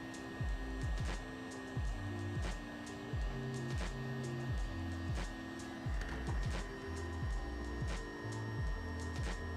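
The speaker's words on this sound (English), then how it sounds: "I'm going to use a heat gun to warm the end of the tube." A heat gun warms the end of a polyethylene tube, a steady airy blowing hum that runs throughout, with rhythmic low musical tones playing underneath.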